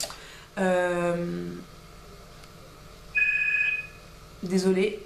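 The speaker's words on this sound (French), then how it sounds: "c'est mon téléphone, je reviens." A mobile phone rings indoors in short bursts of a bright melodic ringtone, fairly close and clear, with someone speaking briefly in between.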